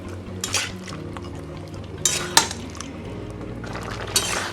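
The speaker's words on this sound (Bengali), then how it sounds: "ভালো করে আমি নাড়াচাড়া করে নেব" Chicken korma gravy and oil are stirred in a pot, with a wet, thick churning sound and sharp clinks of a utensil against the metal at irregular intervals.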